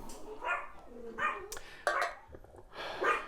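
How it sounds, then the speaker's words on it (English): Dogs bark in several short, separate bursts with gaps between them, somewhat distant and fairly faint, with a sharper yip in the middle and no talking. "It's not a complete video without the dogs barking."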